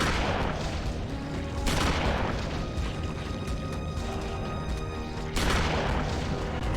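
Gunshots fired at zombies in the Eternal Darkness video game, two loud booming blasts spaced several seconds apart over a dense, rumbling game soundtrack.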